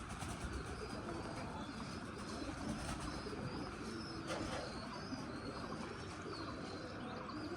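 Pigeons from a breeding pair, a male and female kept together, coo softly amid steady bird chatter and background noise, with faint wing flaps, no voices.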